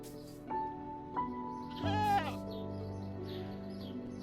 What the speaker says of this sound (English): Okay, now I hit the goat.